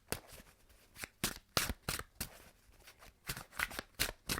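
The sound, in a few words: shuffling cards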